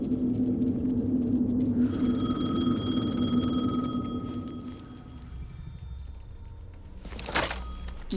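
A phone rings in the video game Alan Wake 2, a repeated electronic tone with a few rings over a dark ambient rumble, followed near the end by a sharp thunk.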